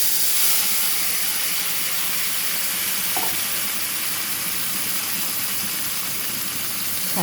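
Bottle gourd peel frying with black cumin seeds in leftover eggplant-frying oil, giving a steady, close, loud sizzle and hiss that runs throughout with a faint stir or clink partway.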